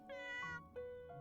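A cat meows several times in quick succession, close and clear, with the calls rising and falling in pitch and nothing else audible.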